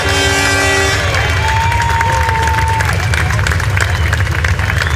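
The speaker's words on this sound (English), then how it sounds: "please give a cheer for our teams on the Riverwalk and on Harbor Island Bridge" A crowd at a military capabilities demonstration cheers and applauds while horns toot loudly at the start, then a long held tone sounds over continuous crowd noise and clapping, with a voice speaking over it.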